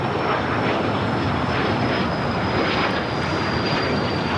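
An American Airlines airliner takes off at Los Angeles airport, its steady, loud jet engine roar continuous and close, with a thin high whine running through it.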